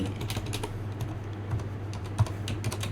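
Rapid, irregular keystrokes on a computer keyboard, typing text into an app-building tool; a steady run of close, crisp clicks with no voices over them.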